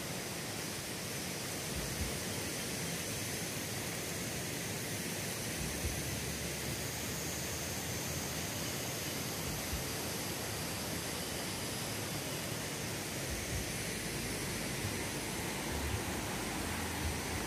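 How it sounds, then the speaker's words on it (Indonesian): Rushing river water pours over Sucen dam, a weir in Salatiga, as a steady, loud, broadband roar with no letup throughout. "Wow, sungainya lumayan besar."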